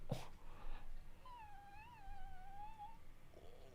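Kittens give a single long, wavering mew that rises and falls for about two seconds, fairly faint against a steady background hiss with a few brief thumps around it.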